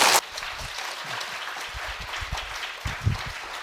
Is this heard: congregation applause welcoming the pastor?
yes